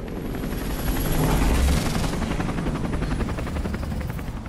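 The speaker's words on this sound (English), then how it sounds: "Helicopter." A helicopter flies overhead in the video game Detroit: Become Human, a loud continuous rotor thrum with steady rapid chopping that swells around the middle and stays strong throughout, with no speech over it.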